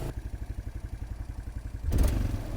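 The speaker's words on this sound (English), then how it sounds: "Idle stays up for some reason like that." A motorcycle engine idling high with a fast, even putter that runs steadily, then a louder burst of clatter and rising rev near the end, heard up close.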